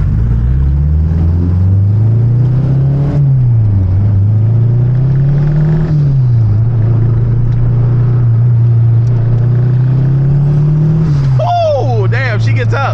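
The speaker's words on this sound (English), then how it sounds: "Listen to this turbo. I just love it so much." A turbocharged Honda K24 car accelerating, its engine droning loudly from inside the cabin, pitch rising and falling through several gear changes, with turbo whoosh and a sharp burst near the end.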